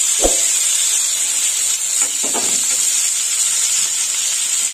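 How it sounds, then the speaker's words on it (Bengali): Potatoes fry in oil in a pan, giving a loud, steady hiss broken by a few soft clunks near the start and in the middle. "এবার আমি আলুগুলো ভেজে নেব।"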